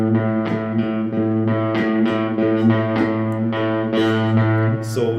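An electric guitar plays a rhythm in steady eighth notes, picked with thumb and fingers, with a driven, slightly distorted tone that sounds close and continuous, with no talking.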